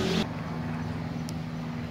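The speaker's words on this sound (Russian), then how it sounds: "Вот летит самолет." A steady low engine drone hums, like an airplane passing at a distance near a small airfield outside Buenos Aires, with a brief louder burst at the start.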